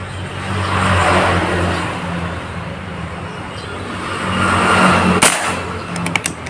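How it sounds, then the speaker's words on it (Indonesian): Over a constant rumble of passing road traffic, one short, sharp air rifle shot at a target snaps out near the end, followed by a few faint clicks. "Tembakan kedua"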